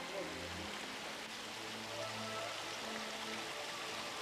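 Warm 37 °C hot-spring water runs down a small stream from a nearby mountain, a steady, even rush of flowing water that stays moderately quiet and constant throughout, with faint tonal sounds in the background.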